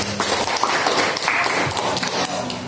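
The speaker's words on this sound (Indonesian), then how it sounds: "Tepuk tangan sekali lagi buat anak Bapak" Students in a classroom clap for their classmates during a Christian religious education lesson, a steady rustling patter of many hands with some voices faintly mixed in.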